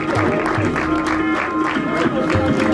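Audience applause at a film screening hosted by an MLA group, a dense steady wash of clapping filling the room with voices and crowd murmur mixed in throughout.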